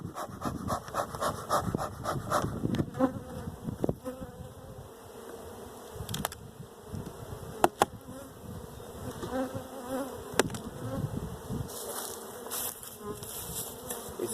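Honey bees buzzing from an opened spring hive, a continuous close insect drone with sharp knocks and clatters of hive equipment scattered throughout.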